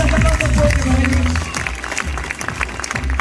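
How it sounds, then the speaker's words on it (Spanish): Audience applause for the birds at a bird show: a loud crowd clapping continuously and close, with a voice talking over the clapping. "sobre todo el aplauso fuerte a los pájaros"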